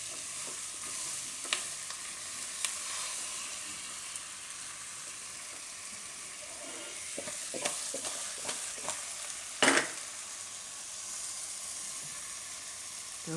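Spices being stirred into pumpkin khichdi in a cooking pot, with a steady sizzling fry bed and scattered scraping spoon strokes at close range, no voices.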